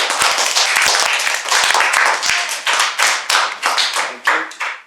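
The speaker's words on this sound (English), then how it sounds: "Give Hillary a round of applause again." Round of applause for Hillary at an Alchemist Club showcase, loud close-up hand clapping with distinct individual claps that thins out and turns into scattered, uneven claps near the end.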